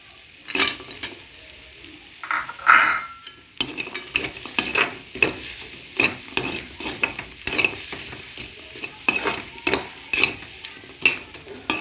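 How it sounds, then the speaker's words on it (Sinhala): Chicken pieces hit a hot pan and are stir-fried for Chinese chicken fried rice, with a steady sizzle broken by repeated sharp scrapes and clinks of a spatula against the pan, loud and close, no voices. "දැන් අපි මේකට චිකන් ටික බෙදගත්ත චිකන් ටික දාගමු"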